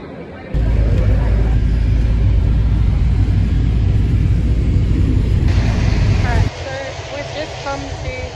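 A helicopter on the Everest Base Camp trek route flies overhead and comes around to land, a loud, steady rotor rumble that dominates before dropping to a quieter whine near the end, with voices murmuring beneath.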